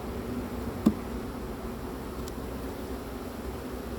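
Honeybees on hive frames during winter hive preparation give a faint, continuous buzzing hum with a single soft knock near the start, no talking.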